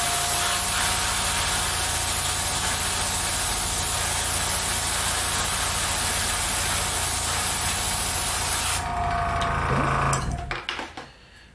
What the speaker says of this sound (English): Just going slow with the airbrush, back and forth.